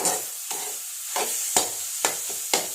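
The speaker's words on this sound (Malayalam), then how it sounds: "നല്ലപോലെ മിക്സ് ചെയ്യുക" A spoon stirs jackfruit thoran in a pan, scraping in six or seven distinct strokes about half a second apart over a soft steady sizzle, near and clear with no talking.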